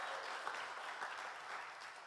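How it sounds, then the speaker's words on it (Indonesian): Congregation applauding during a church worship service, dense steady clapping from many hands filling the whole moment without pause. "Beri tepuk tangan dulu untuk Tuhan kita."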